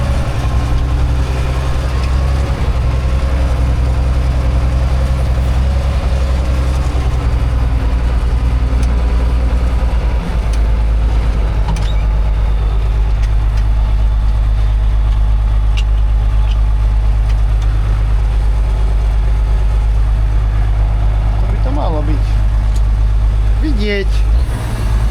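A Zetor ZTS 16245 tractor engine idles loud and close, a steady low diesel drone running throughout with a few faint clanks and higher squeaks near the end.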